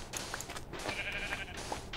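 A sheep bleats in Minecraft, a couple of short wavering calls close by amid faint game sounds, with no talk.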